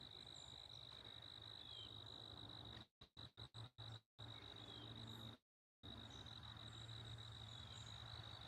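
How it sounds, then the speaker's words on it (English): Continuous high-pitched cricket chirring at the Mill Springs Civil War battlefield holds steady throughout, with brief dropouts and one longer silent gap in the recording. "Joe, can you hear the crickets?"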